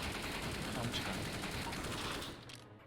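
Rapid automatic gunfire in Counter-Strike rattles loud and continuous for over two seconds, then cuts off abruptly.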